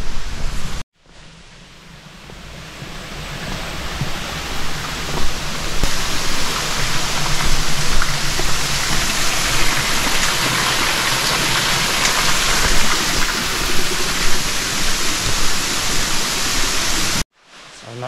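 Waterfall in Bali, a steady loud broadband roar of falling water filling the scene from near the start almost to the end, with no speech.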